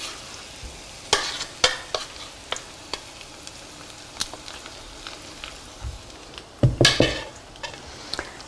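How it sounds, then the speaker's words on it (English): Japanese pancake batter sizzles in hot oil in a pan, a steady close frying hiss broken by sharp scrapes and clicks of a utensil against the pan, with no talk. "We're going to put half of the pancake batter into the pan."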